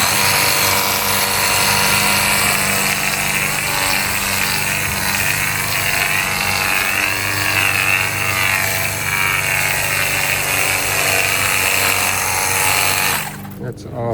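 A cordless pressure washer with a 6-in-1 nozzle sprays foam, producing a loud continuous motorized hiss and whine with a steady hum that cuts off near the end.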